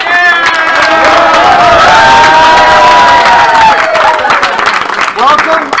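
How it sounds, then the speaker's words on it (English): A loud indoor crowd at a Killer Queen arcade game event claps, whoops and cheers for first-time attendees, the dense applause and shouting holding steady for several seconds close by. "we didn't do our round of applause for people who are here for the first time"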